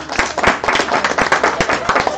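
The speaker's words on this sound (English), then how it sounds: "Let's give them a round of applause." A live-stream audience at a business meeting in Laguna Hills claps hard and steadily in a close, dense, continuous round of applause with sharp individual hand strikes throughout.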